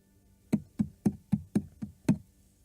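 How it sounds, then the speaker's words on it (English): Seven light, evenly spaced knocks tap from a restroom air vent, like a fingertip rapping on metal, each short and dry against a quiet background. "There was a tiny tapping noise coming from the air vent."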